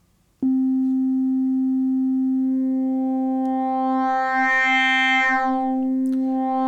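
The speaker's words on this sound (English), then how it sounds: "this one goes into that one and pitch modulates it really, really fast" A steady FM synthesizer tone, one oscillator rapidly pitch-modulating another, with a bright, buzzing harmonic sweep that swells in the middle and then settles, sustained alone without any talking.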